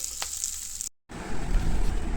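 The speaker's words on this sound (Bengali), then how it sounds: "আজকে আমাদের চিকেন রোস্ট, একদম তেল কম দিয়ে বসেছি, ভাজা ভাজা হয়েছে" Masala roast chicken cooked with little oil sizzles and fries in a pan, a close, steady crackling hiss broken by a brief cut, then louder frying.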